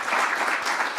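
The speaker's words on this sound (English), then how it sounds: "let's give a round of applause to the administration and the great work that they did" Governors gathered in a full session break into a round of applause, a brief, even wash of clapping from a large audience.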